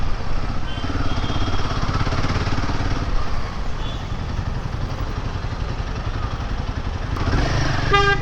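A new motorcycle filtering through traffic, its engine droning steadily and close throughout, with horns and surrounding road traffic mixed in and a brief rising burst near the end.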